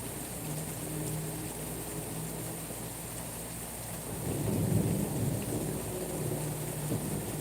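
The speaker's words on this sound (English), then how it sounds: "Oh, there's the thunder." Steady rain falls throughout, and a low rumble of thunder swells in about halfway through, rolling loudly for a few seconds before easing back into the rain.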